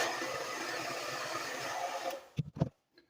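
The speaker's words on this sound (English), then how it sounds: "I'm going to hit it one more time with the hairdryer to get any extra hairs and stuff off me" A hair dryer blows trimmed beard and moustache hairs off a man at home, a steady airy whoosh that runs for a couple of seconds and then cuts off, followed by a few soft handling knocks.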